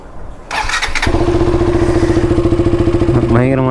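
A KTM Duke motorcycle engine cranks with a short whir, then catches and settles into a loud, steady, throbbing idle close by, with a brief rise in revs near the end.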